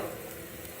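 Ground chutney paste hits a hot tempering of mustard seeds, dried red chillies and curry leaves, giving a brief, steady, close frying sizzle.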